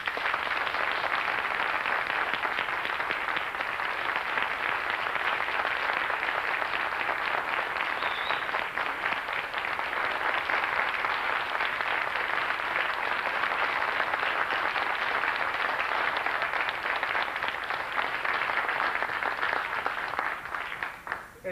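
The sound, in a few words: audience applause at an oratorical contest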